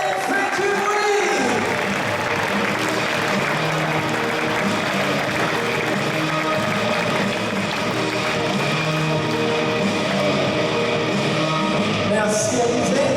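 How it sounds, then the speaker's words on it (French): An audience applauds a women's basketball player introduced at a club's official team presentation, with steady, dense clapping and crowd noise filling the hall throughout. "je vous demande d'applaudir Alizé Frégon"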